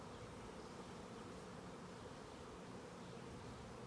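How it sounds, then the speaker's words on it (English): Dense, steady buzzing of many honeybees swarming close around an open hive during an inspection, a continuous drone that fills the whole span with no talking. "the bees are liking to go after my mouth right now"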